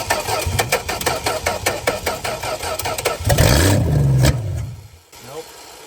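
A 1963 Plymouth Valiant slant six engine cranks on medium choke with rapid rhythmic starter churning, catches into a brief rough roar, then stumbles and dies, with a voice speaking over it.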